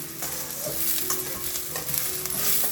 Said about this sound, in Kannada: ಇಲ್ಲಿ ಈರುಳ್ಳಿದು ಹಸಿ ವಾಸನೆ ಹೋಗೋತನ ಅಷ್ಟೇ ಹುರ್ಕೋಬೇಕು